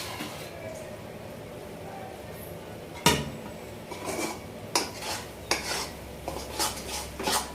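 A milk and coconut barfi mixture is stirred in a pan; soft background hiss is broken by a sharp metallic clank, then several distinct spoon scrapes and clinks against the pan, fairly quiet and close.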